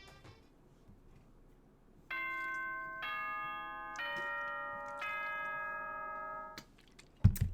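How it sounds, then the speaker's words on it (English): A chime announcement from the video game Danganronpa 2: a series of sustained, layered bell-like tones stepping in roughly one-second intervals, clear and alone, ending with a brief louder thump. "Ding dong, ding dong."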